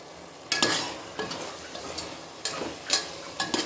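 Tomatoes sautéing in a pan for vegetable rice, a soft continuous sizzle broken by several scraping strokes of a spoon stirring, close and without talk.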